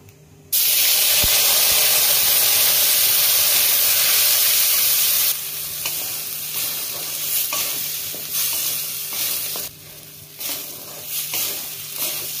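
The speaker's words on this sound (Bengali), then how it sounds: "অল্প একটু তেল দিচ্ছি। ডালটাকে আমি একটু ভেজে নেব।" Masoor dal lentils frying in a little oil in a pan, cooked for a Bengali lentil dish with banana flower and prawns. A loud, steady sizzle bursts in after half a second, later easing slightly with occasional scraping stirs.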